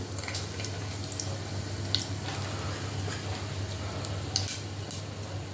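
Dried red chilli goes into hot oil with urad dal, and a quiet steady sizzle runs throughout, with scattered small crackles and a couple of light clinks from the pan.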